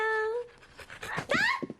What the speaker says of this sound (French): Oh, quel joli petit chien.